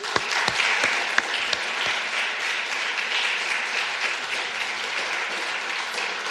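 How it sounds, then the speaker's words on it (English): A conference audience at a closing session gives a sustained round of applause, steady and full throughout, with a few sharper individual claps standing out early on. "a huge round of applause for all of you who came here"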